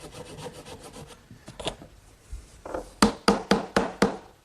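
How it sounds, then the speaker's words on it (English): A hand saw trims a wooden dovetail joint on a Shaker washstand, starting with light rubbing strokes and finishing with a run of five or six sharp, evenly spaced rasping strokes close by. "I'm just going to take my saw and run it between the joint to trim a little bit off"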